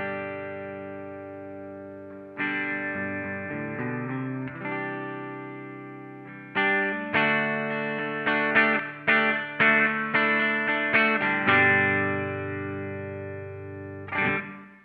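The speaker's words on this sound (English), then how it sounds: "But this is the clean tone of this guitar." Clean electric guitar through a neck humbucker and a cabinet simulator with light reverb, strummed chords ringing out, a pause, then a busier passage of rhythmic strums and a final chord, played alone.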